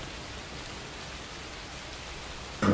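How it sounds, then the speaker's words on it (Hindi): Light rain falling as a steady, soft wash of drops in a radio play, even and continuous throughout, with a brief louder knock right at the end. "वर्षा थम रही है"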